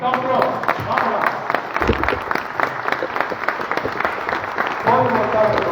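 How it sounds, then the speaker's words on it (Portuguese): Congregation claps together in a church during a Pentecost Sunday confirmation service, steady overlapping applause for several seconds with voices talking over parts of it. "Então agora sim, podemos fazer uma salva de palmas."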